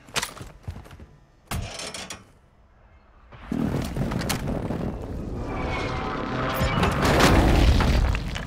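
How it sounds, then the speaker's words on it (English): Explosions from an airstrike in Call of Duty: Modern Warfare II: a couple of sharp isolated blasts, then a sustained, swelling roar of rumbling detonations and aircraft noise growing louder and closer. "Friendly airstrike on the way."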